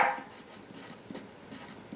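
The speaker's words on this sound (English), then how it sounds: "She thinks she needs to go outside and bark at something." A dog gives one short, fairly loud bark at the very start, followed by faint indoor quiet.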